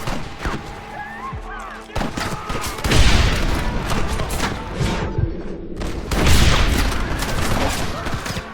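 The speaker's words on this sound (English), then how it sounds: "Man, the Gatling gun, Martin!" Gatling gun in Red Dead Redemption firing in long rattling bursts with heavy booming reports, a lull near two seconds and then a second loud stretch of rapid fire.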